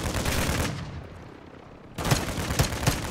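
Heavy machine gun fire from Call of Duty sounds off in a loud sustained burst, drops to a brief lull, then returns with sharp booming shots, close and dense.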